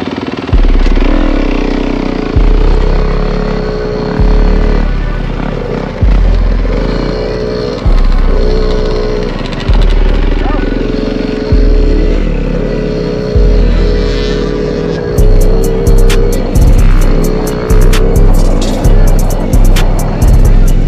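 A Yamaha PW50 dirt bike is ridden at Perris, its small two-stroke engine revving loudly in repeated surges that rise and drop every couple of seconds, close and continuous.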